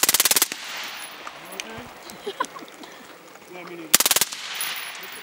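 Full-auto Glock pistol with a 100-round drum magazine fires two loud, rapid bursts at close range, one at the start and one near the end, with quieter outdoor activity and faint voices between.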